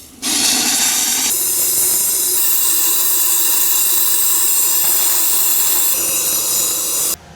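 Hot steam blasts from a steam valve in a steam test lab, making a loud, continuous roaring hiss for about seven seconds that changes tone partway through, with sharp onset and cutoff.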